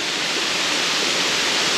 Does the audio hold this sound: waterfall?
yes